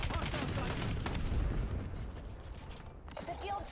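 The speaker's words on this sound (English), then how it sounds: "Hostile cluster grenade." Call of Duty match audio with cluster grenade blasts and gunfire, a loud dense barrage of pops and booms that gradually thins out, with voices partly heard under the fighting.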